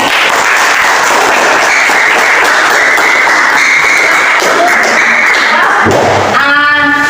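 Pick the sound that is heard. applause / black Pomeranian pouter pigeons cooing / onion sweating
applause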